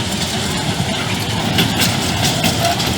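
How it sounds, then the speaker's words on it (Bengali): A small amusement park toy train circling a track in a garden gives a steady mechanical engine rumble with light rattling, moderately loud and continuous, with faint background voices. "উদ্যানে ঘূর্ণায়মান একটা ট্রেনও দেখতে পাচ্ছি। ছোট্ট জায়গার মধ্যে ট্রেন"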